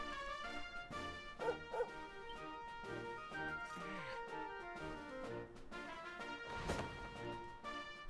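A dog barks in Dragon Quest XI, short yips and bow-wows set over a continuous orchestral game score, moderately close.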